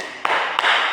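Children clap their hands in the 'tepuk emosi' chant, two crisp, evenly spaced claps sounding close and clear.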